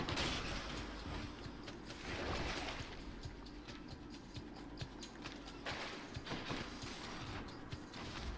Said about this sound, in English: Nice big explosions on my casts